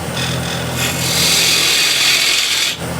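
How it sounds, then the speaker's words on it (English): A half-inch spindle gouge cuts a cove into a wooden plate, making a continuous close scraping hiss that swells louder midway before easing off. No one speaks. "we can make a cove here, just grabbing the 1/2 inch spindle gouge"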